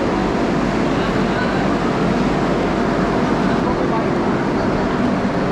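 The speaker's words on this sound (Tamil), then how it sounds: "திண்டுக்கல் ஜங்ஷனுக்குள்ளே தான் இப்போது வந்தே பாரத் ட்ரெயின் என்ட்ராயிருக்கு" Continuous loud rumble and rattle of a Vande Bharat Express train rolling into Dindigul Junction station, a steady rushing noise with no distinct voices standing out.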